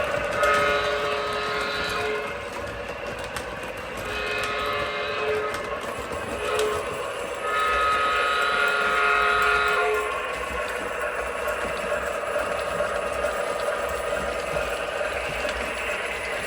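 An O gauge Menards F unit model train set runs around a track loop, giving a steady mechanical clatter and whirring rattle that rises and falls slightly as the locomotive circles, with no talking.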